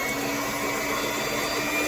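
An electric hand mixer whirs steadily as it blends sour cream for a no-bake cheesecake, a constant high buzzing motor sound close by with no talking.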